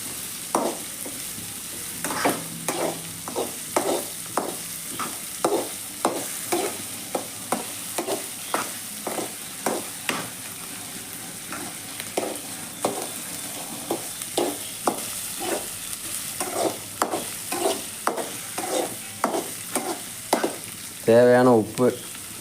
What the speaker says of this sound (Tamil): பொன்னிறம் ஆக வரைக்கும் இதை அப்படியே வதக்கிடுவோம்.